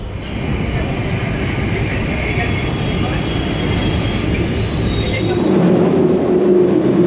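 A regional RER train pulls into Gare de Lyon station in Paris, with a loud, steady rumble and a high wheel squeal running throughout, then a shift in tone as it slows.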